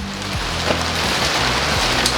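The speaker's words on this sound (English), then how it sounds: "Okay, so it started raining." Steady rain patters down outdoors during a car repair job, a dense, even hiss of drops on surfaces with a low engine-like hum underneath, no talking.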